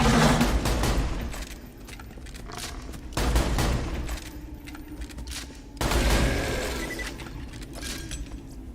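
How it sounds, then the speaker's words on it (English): Explosive shotgun blasts in a video game boom out in a rapid fusillade, with loud bursts recurring every few seconds amid crackling gunfire and debris. "Like these fucking exploding shotguns,"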